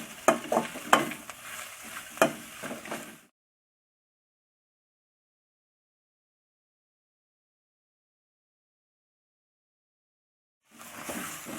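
Curry leaves sauté and sizzle in a pan for chutney, with crackling and scraping stirs up close, then a long silent gap before the frying sounds briefly return.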